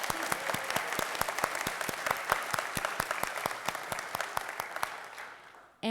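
A round of applause for an honored guest at a community event on mindfulness: evenly spaced, fairly sparse claps in a steady rhythm, moderately near, stopping abruptly at the end.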